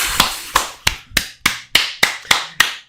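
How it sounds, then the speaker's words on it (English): Nine sharp, evenly spaced hand claps ring out close and loud from a single person, each snapping and fading quickly. "Big round of applause for LoreCraft"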